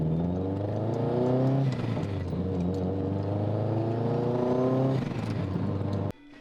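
Subaru GC8 / GM6 2.5RS engine revving up with a Tial blow-off valve, a loud rising and falling rev sweep and sustained engine whine, ending with an abrupt cut as the valve vents.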